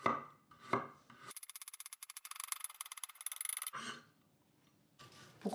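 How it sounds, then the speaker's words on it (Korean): A knife chops carrot for bibimbap on a cutting board in a rapid, even run of about two dozen crisp taps, close and clear, framed by soft breathing sounds before and after. "당근 썰어주도록 하겠습니다."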